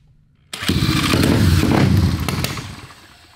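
A small Pister Pro pit bike engine is cranked with a whirring drill and catches, running loud and raspy for a few seconds before easing off slightly.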